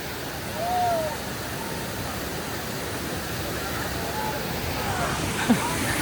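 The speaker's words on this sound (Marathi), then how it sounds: "भाचे धबधबा म्हणून आहे. तर बघा हा धबधबा." Bhaje waterfall near Visapur, heard as a steady broad rush of falling water, with people talking in the foreground.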